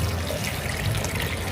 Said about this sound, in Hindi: फटाफट अपने पौधों में पानी डालती हूँ